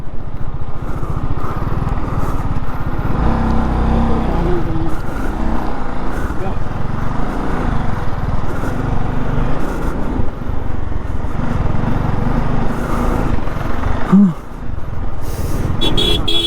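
Roadside traffic jam on a Ladakh ride, with an Apache RR310 motorcycle idling among stuck cars: a dense, loud engine rumble throughout, with a short horn-like toot near the end and people talking over it.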